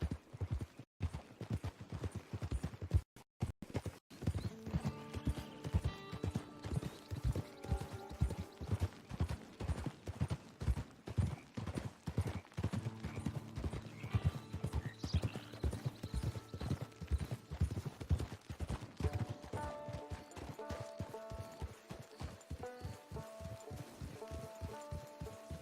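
Horse hooves in Red Dead Redemption 2 Online, a steady clip-clop of a ridden horse at an even trotting pace, close and continuous, with game music underneath and brief gunshot-like pops early on.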